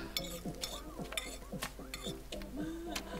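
Dishes and plates being washed in The Sims 4, with quick clinks, scrapes and splashy clatter in an irregular rhythm, moderately close and fairly quiet.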